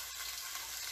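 Small chicken thighs frying in a pan while a burger is cooked, a steady close, dense sizzle and crackle filling the whole second with no voices.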